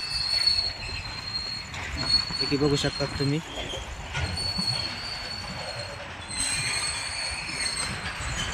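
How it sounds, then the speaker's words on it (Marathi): A train runs along a sharply curving mountain track, its wheels squealing steadily against the rails with a continuous rumbling roll, while a person talks over it throughout. "आपली रेल्वे खूप डोंगरातून आलेली आहे मित्रांनो, खूप वळण इथं."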